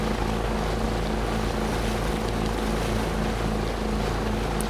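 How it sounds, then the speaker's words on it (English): A helicopter in the video game DayZ drones steadily with a loud, continuous rotor thrum and pulsing low chop, close and unbroken throughout. "Hey, a chopper!"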